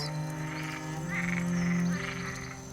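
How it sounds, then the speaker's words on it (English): Frogs croak steadily in a dense forest at night, a close chorus of buzzing, pulsing calls layered over a constant background hum, with no voices. "Frogs that had been frightened away hop back out, settle back atop their mushrooms."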